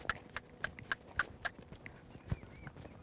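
A young horse in colt-starting training lopes on an arena surface, hooves striking in a quick, even clip-clop rhythm of about six close beats before a softer, irregular step or two.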